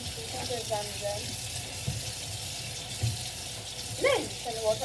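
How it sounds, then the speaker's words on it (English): A kitchen tap runs steadily into a sink during a cleanup, a continuous close hiss of water with a few splashes and light clunks of items being handled, and no talk over it. "Then turn the water off and you throw the excess down the drain"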